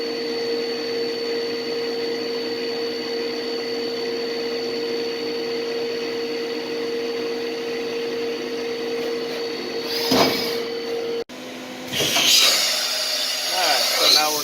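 A Mazak VTC20B CNC machine reams pre-drilled holes with a steady, droning whine and a constant tonal hum. Bursts of spray or air hiss come near the end, with a brief cut in between.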